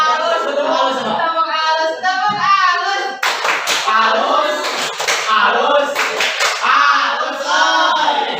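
A class of students clapping together in a teacher-led 'good job' cheer: after a few seconds of voices chanting, a burst of loud, close, rhythmic group clapping takes over, with voices still mixed in.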